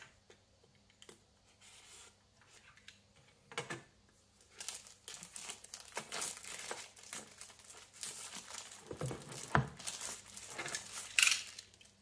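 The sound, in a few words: unboxing Realme Buds Air 2 packaging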